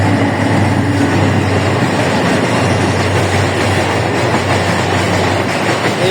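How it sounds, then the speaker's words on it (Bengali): Close and loud, a train rolls through a level crossing in Dhaka, a steady heavy rumble with rhythmic clickety-clack of the wheels lasting throughout. "এদিকে ক্রসিংয়ে আবার রেল চলে আসছে।"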